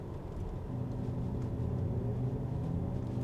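Synthetic electro-induction motor sound from an MG Cyberster electric roadster, a steady low hum with layered tonal drones that stays even and moderately loud throughout, with no talking.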